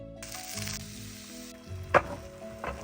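Vegetables sizzle as they drop into a hot wok for homemade noodles, a steady broad frying hiss with a sharp crackle near the end and a few softer stirring clatters.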